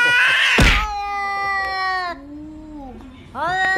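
Cats meowing and caterwauling, loud drawn-out yowls with wavering pitch, a sharp burst at the start and a renewed wail at the end.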